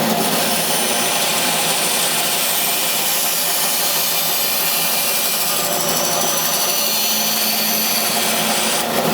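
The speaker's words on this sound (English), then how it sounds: "Now the acrylic is clamped to the drill press." Drill press spinning and cutting clamped acrylic, a loud continuous grinding whir with a rough, scraping texture that holds steady the whole time.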